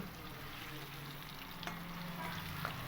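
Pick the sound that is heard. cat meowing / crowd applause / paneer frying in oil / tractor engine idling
paneer frying in oil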